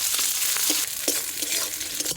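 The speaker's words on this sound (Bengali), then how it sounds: "পেঁয়াজ লাল লাল করে ভাজা হয়ে গেছে" Onions sizzling in hot mustard oil with whole garam masala, dried chillies, bay leaf and cumin in a pan, a steady close crackle with faint stirring scrapes and no talk.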